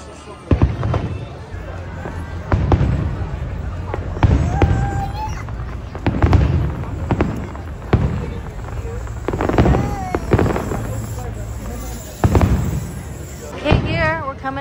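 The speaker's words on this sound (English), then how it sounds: "And then here we see fireworks." Repeated fireworks bursts boom and crackle every second or two at a Disney theme park finale, with a crowd cheering and chattering underneath and a couple of whistling rockets.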